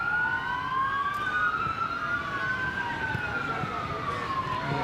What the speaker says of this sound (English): You hear the sirens in the background,